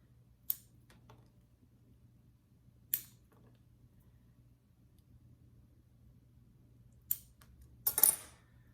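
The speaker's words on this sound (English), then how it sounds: "I'm just going to snip them off close to the stem" Leaves are snipped from a jade plant stem close to the stem. Four sparse, crisp clicks of the cut sound over quiet room hum, the last a slightly longer crunchy snip.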